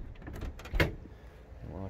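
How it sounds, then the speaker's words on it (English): The door of a 1971 VW bay window bus swings shut with a single thud partway through, with faint handling noises before and a quiet voice after. "I'm gonna close the door"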